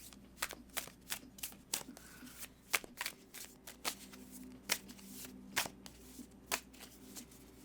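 Tarot cards are shuffled in a quiet room, with soft repeated riffles and taps at an irregular, steady pace close by.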